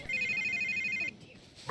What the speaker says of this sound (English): Alfred's ringing